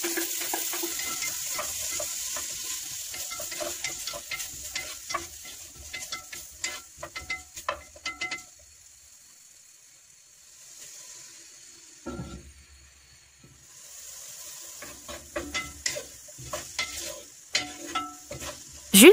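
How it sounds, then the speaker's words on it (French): Onion fries gently in oil in a clay pot, with bursts of scraping and stirring and a light sizzle, a near-silent pause in the middle, then more stirring and sizzling, with no voices. "J'ajoute l'oignon et je le laisse revenir doucement."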